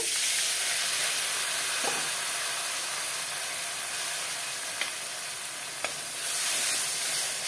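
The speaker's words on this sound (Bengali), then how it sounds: "ফোড়নে দিলাম কালো জিরে, আদাটা গ্রেট করে রেখেছি, আদাটা দিলাম, দিয়ে দেবো পোস্ত" Nigella seeds, grated ginger and poppy seeds frying in hot oil for a Bengali potol posto, a steady broadband sizzle held close and fairly loud throughout, with a few faint clicks of a utensil and no voices.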